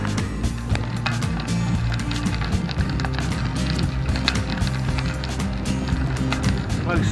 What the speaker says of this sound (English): Salt down on this road, it sounds like you're riding on gravel.